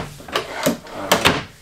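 A wide wooden kitchen drawer built into the end of an RV countertop in a 2020 Jayco Jayflight 29RKS travel trailer rolls open and shut, with several quick close sliding thuds and knocks.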